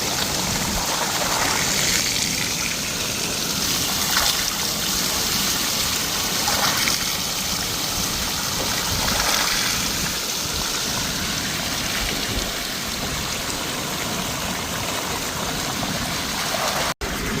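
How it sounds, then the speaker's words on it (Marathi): Water gushing from the outlet pipe of a 7.5 HP electric motor pump filling a farm pond, a steady loud rushing flow that runs continuously and alone before cutting off abruptly at the end. "साडेसात एच पीची मोटर आहे खूप उंच आहे तरीसुद्धा फुल पाणी मारते बघा"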